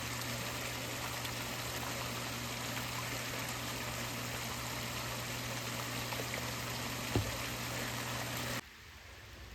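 Water from a pump pours steadily through a mini highbanker sluice box outdoors in the rain, a continuous rushing trickle with a low pump hum that cuts out abruptly near the end.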